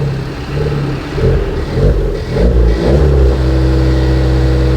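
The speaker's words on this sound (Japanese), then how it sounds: "じゃあ次はマフラー音いってみましょうか。" A Suzuki Swift Sport ZC33S turbo engine rumbles through its muffler, then is revved in several quick blips that rise and fall over a steady idle, close and loud.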